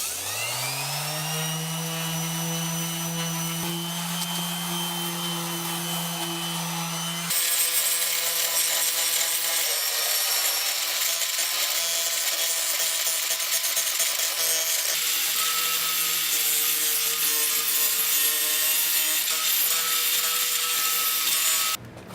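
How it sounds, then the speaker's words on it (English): A loud, continuous power tool whirs and grinds with 80 grit sandpaper against rusted metal underneath a car, its pitch rising and shifting partway through, sustained without pause for over twenty seconds. "Now I'll grab some 80 grit sanding paper and grind down all the rust underneath the car."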